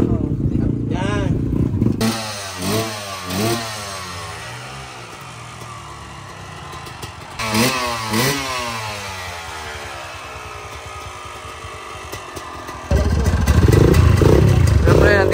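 Motorcycle engines at an endurocross race rev and idle nearby in repeated rising-and-falling bursts, with loud blips around the start and middle and a harsher roar near the end; voices chatter over the engines.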